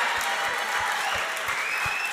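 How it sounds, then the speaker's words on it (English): An audience gives a round of applause for a performer indoors, dense even clapping that holds steady throughout with a faint regular low thump beneath, with no talk. "Let's have one more round of applause for Preston"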